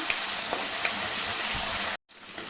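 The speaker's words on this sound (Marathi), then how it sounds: "याला आले लसूणची पेस्ट जरा थोडीशी जास्त घालायची एक एखाद मिनिटभर आपल्याला हे परतून घ्यायचे" Ginger-garlic paste sautéing in a pan for a crab curry, a steady close sizzle with light stirring scrapes that cuts out abruptly for a moment near the end before resuming.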